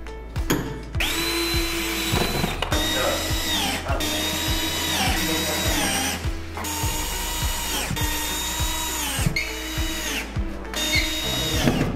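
A power screwdriver drives self-tapping screws into corner brackets on a white 160x200 double bed frame with a lift mechanism, whirring in repeated short bursts with ratcheting clicks and brief pauses between screws, close and loud throughout.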